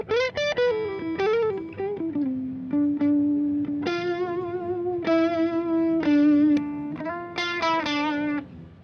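Electric guitar through an Orange amp at NAMM 2025, a run of sustained, slightly overdriven notes and bends with rich harmonics, played alone and close.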